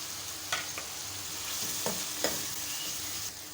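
Dry whole spices fry with beef in a pot for shahi beef biryani. A soft, continuous sizzle is broken by a few sharp scrapes of a spoon stirring, close and fairly quiet.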